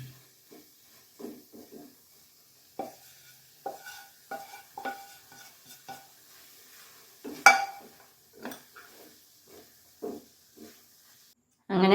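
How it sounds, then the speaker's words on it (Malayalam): A spatula scrapes and tosses noodles with carrot and scrambled egg in a pan, in short irregular strokes with brief pauses and a faint sizzle underneath. "ഇനി അതിലേക്ക് മുട്ട ചിക്കി വെച്ചതും കൂടെ ഇട്ട് കൊടുക്കാം"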